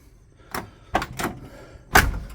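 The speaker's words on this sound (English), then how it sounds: "The door functions again." A car door is worked open and shut several times, sharp close thumps and latch clicks spaced irregularly, close by with no talking.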